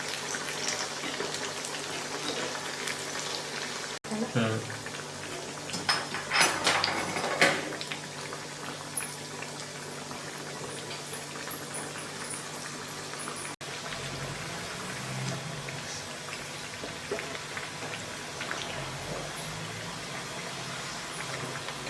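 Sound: sago (sabudana) vada deep-frying in oil until crispy

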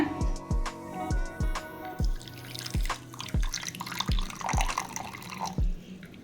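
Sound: water poured over soaking ajwain (carom seeds)

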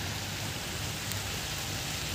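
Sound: rain falling outdoors

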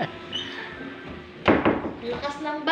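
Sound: door being closed

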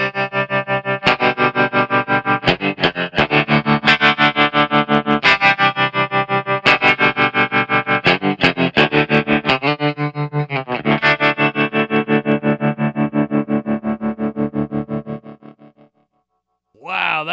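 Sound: electric guitar with opto tremolo effect on True Spring Reverb pedal

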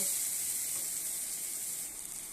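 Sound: hot water poured into fried tomato masala

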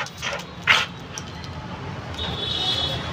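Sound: female Rottweiler dog barking while playing with a ball

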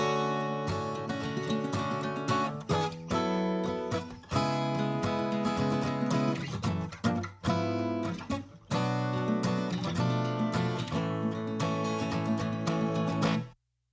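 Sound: acoustic guitar mix through 2254 bus compressor at 3:1

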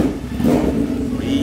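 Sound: Honda Hornet motorcycle engine revving

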